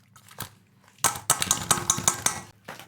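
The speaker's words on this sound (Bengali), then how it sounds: "দেখুন পেঁয়াজ ঘষাটা কত সুন্দর তাল ছানা হচ্ছে" Ripe palm fruit pulp rubbed on a metal onion grater, a quick run of close, rasping scrapes with clattering knocks in a steady rhythm, following a quieter faint scrape, with no talk.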